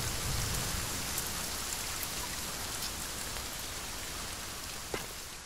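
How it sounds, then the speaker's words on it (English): Steady rain pours down in the survival game The Forest, an even, broadband patter that holds for several seconds at moderate level, with one small sharp tick near the end and no one speaking. "Of course, it keeps raining."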